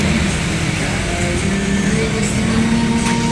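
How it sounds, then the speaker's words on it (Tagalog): Steady traffic noise from cars and motorcycles passing on a road at night, a continuous loud engine and tyre rumble with no distinct gaps between vehicles. "Habang may mga narinig kayong mga sasakyan"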